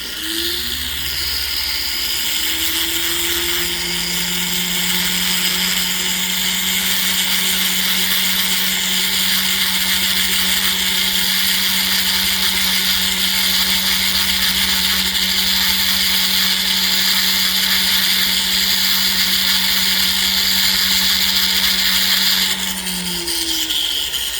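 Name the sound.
grinding down excess metal of a ring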